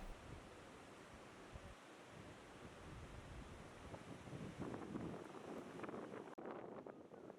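Steady, blustery wind roars and buffets the microphone on a misty day in the Nelliyampathy hills, with a rushing gust that swells toward the end.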